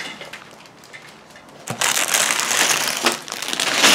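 A plastic parts bag from a LEGO Ninjago set 70751 (Temple of Airjitzu) being torn open, quiet at first, then a sudden loud crinkling rustle that continues close up.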